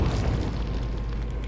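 A weapon fires in a video game with a deep, loud booming blast that rumbles on for the whole moment, heavy and close, with no talking.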